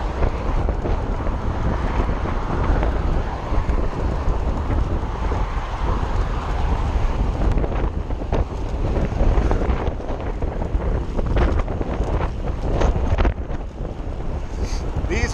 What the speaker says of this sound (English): windy days.